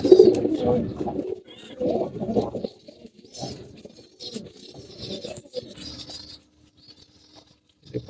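Pigeons cooing in a loft, soft low coos in several bursts with scattered fluttering and pattering sounds, close by and with no talking.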